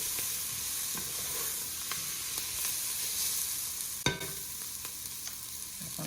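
Olive oil sizzles steadily in a pan while lentil soup ingredients are stirred, a constant close crackle with a sharp scrape of the spoon about two-thirds of the way through.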